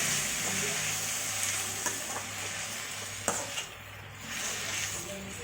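Tomatoes stirred and frying in a pan for idly sambar, a steady close sizzle with occasional scrapes and clicks of a spoon against the pan, no talking.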